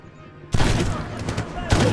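Gunfire in the Medal of Honor Tier 1 video game, a loud burst of rapid automatic fire after a quiet start and a second sharp volley at the end, with a voice calling out beneath it.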